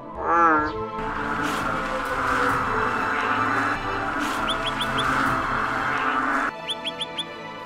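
Frogs calling in a forest after rain, a chorus of croaks and chirping trills that holds steady for several seconds before breaking into short, separate calls at the end.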